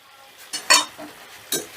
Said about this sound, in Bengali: এবারে আমি দিয়ে দেবো ভেজে রাখা সোয়াবিনগুলো